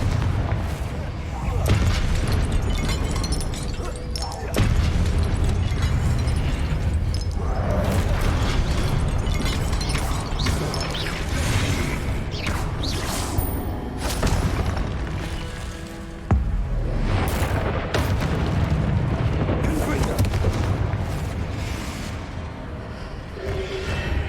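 Confringo blasting spell explosions in Hogwarts Legacy, repeated booming bursts and whooshes amid dense combat noise throughout, loud and continuous with sharper hits scattered across the fight.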